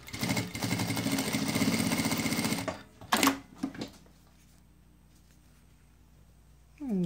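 A Stebnowka A2 H-version lockstitch sewing machine for heavier work stitches leather in a steady, fast mechanical run lasting almost three seconds, followed by a few short bursts and quiet, then the motor starts up again at the end.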